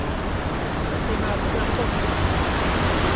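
A waterfall beside dense, overgrown tall grass pours out a steady, close rushing roar of broadband water noise that stays even and unbroken throughout.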